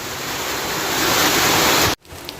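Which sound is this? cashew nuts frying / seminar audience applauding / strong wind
strong wind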